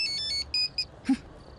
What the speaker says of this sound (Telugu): ఫోన్ మోగాలనుకోలేదు.